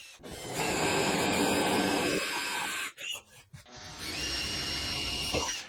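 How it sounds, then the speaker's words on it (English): A power drill whines steadily as it bores into wood, pauses briefly with a few knocks, then drills again in a second sustained burst. "I'll have to re-drill the holes that take those bolts again"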